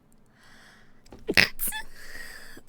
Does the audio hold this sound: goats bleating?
no